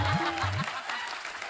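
Studio audience applause at a comedy show, a dense wash of clapping filling the moment, with a voice talking over it at the start.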